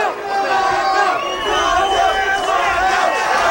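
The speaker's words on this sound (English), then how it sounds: "And this crowd is going nuts." A wrestling crowd at a deathmatch tournament roars loudly and continuously, layered shouting and cheering voices blending into a wild, sustained din.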